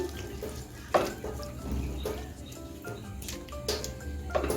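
Water pours into a pot of potatoes being cooked for aloo posto, a steady close splashing stream with a few clinks and knocks against the pot, no voices.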